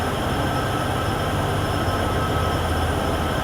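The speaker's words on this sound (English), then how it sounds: "We're driving this train, this ethanol, to its destination." A long ethanol freight train rumbles steadily on the Cheyenne to Laramie line in Train Sim World 6, a loud continuous rolling drone with a faint high whine and no speech.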